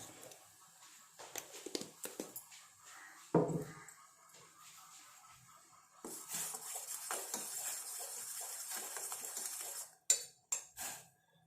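A hair dye paste of hibiscus and coffee powder is stirred in a bowl with a spoon, making soft intermittent scrapes and clinks, then a brighter steady swishing followed by a few louder knocks.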